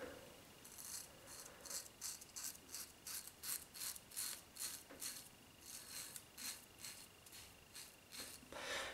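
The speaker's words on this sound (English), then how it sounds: "it feels exactly the same shaving" Ming Shi 2000 safety razor at setting three scraping across stubble, a faint series of short rhythmic rasping strokes, each repeated closely one after another, heard alone.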